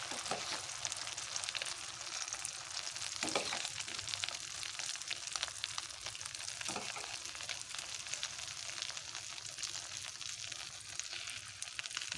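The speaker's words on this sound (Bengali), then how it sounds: "আস্তে আস্তে সবগুলো ভেজে নেব।" Brinjal slices fry in a pan of hot oil with a steady, even sizzle and soft crackle. A couple of faint spatula scrapes come through, with no voices.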